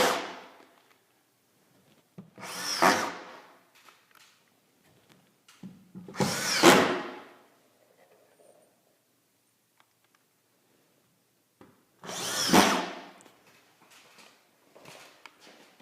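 A power drill drives screws into gypsum drywall sheets along a header, in three short, sharp whirring bursts of about a second each, separated by quiet gaps with faint handling noises.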